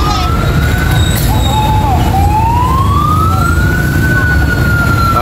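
A fire truck siren wails loudly nearby, its pitch rising and falling in long sweeps over heavy traffic and engine rumble, near an explosion and burning power lines in San Pedro, Laguna.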